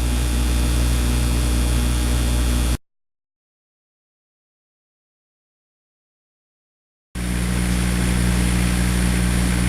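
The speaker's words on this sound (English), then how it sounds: "This is my 40-watt full spectrum laser." A 40-watt Full Spectrum laser cutter runs with a loud, steady broadband whir and hum that cuts to complete silence for several seconds, then resumes at the same level.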